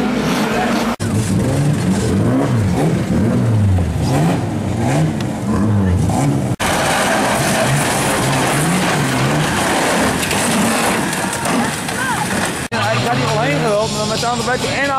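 Race car engines roar and rev continuously with rising and falling pitch, loud and close, while a commentator talks over the noise throughout.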